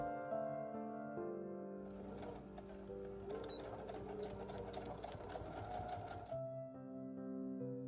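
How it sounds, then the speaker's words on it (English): A sewing machine stitches the outer shell and lining of a bag together in one steady, fast run of rapid needle clatter lasting several seconds, with a quieter motor hum before and after. "Fold outshell and lining to the same direction and sew again starting from the other finish line."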